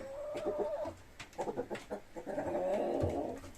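Chickens cluck and murmur close by in a coop, with several overlapping calls that come in short bursts and then a longer run of clucking, and no talk over them.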